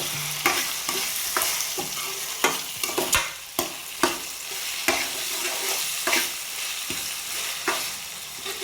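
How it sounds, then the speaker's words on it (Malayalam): Ginger paste ground in vinegar is stirred into a sizzling chicken curry base in a pan, with steady frying hiss and a run of sharp, repeated spoon scrapes close by, no voices. "അതിനകത്തൊന്ന് ഇളക്കി കൊടുക്കുക."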